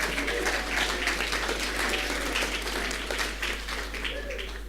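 Sustained applause from an audience at an Enterprise NI awards ceremony in 2013, dense steady clapping for several seconds with faint crowd voices mixed in.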